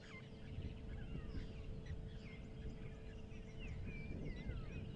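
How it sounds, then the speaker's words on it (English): Cape Turtle Dove calling in the background of an African bush morning near a dam, mixed into a busy dawn chorus of other birds over steady low rumbling ambience. "You can hear Cape Turtle Dove calling in the background."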